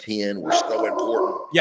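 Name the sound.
dog barking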